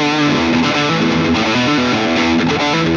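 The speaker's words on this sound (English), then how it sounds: "I'm just going to kick on a full-on distortion pedal" Electric guitar through a full distortion pedal playing sustained chords, loud and thick with saturated grit throughout, no voices.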